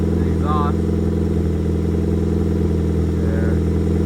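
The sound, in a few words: 2005 Nissan Sentra 1.8L engine running after oil change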